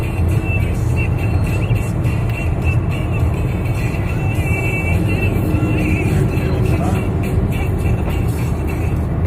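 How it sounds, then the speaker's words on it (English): Utility trucks roll past on a highway during a hurricane evacuation, a loud, steady road roar and tire whir heard from inside a moving vehicle. "So many electrical trucks. Look at this."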